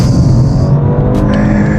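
A BMW 218 Gran Coupe engine revs loudly on a downshift, a close, roaring burst from the cabin with a brief sharp blip partway through and no talk.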